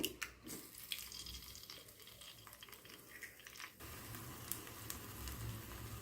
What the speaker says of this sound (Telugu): ఆయిల్ వేడెక్కింది. ఎగ్స్ వేసుకోవాలి.